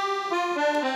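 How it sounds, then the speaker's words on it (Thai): Accordion voice on a Casio CT-S400 keyboard plays a short, bright reedy melody of a few stepping notes, clear and close with no talk. "เขาเรียกว่าเสียงแอคคอร์เดียน"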